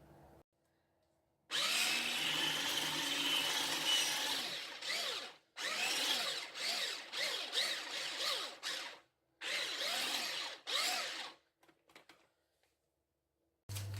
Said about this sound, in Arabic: غادي نطرب ليه شي شويه بالطراب